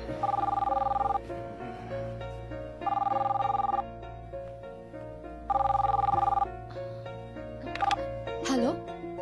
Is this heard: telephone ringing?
yes